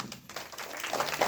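Applause at an Independence Day prize-giving ceremony for a boy who won a school running race, a short burst of many hands clapping that grows gradually louder.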